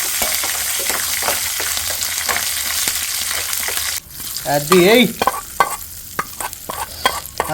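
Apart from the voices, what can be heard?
tempering spices sizzling in hot oil for cucumber chutney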